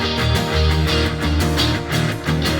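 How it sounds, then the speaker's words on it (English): Four layered guitar parts, distorted electric guitars together with acoustic guitars, play a dense rock riff in an FL Studio mix, loud and continuous with rhythmic chord stabs and no voices. "Let's throw the acoustics in"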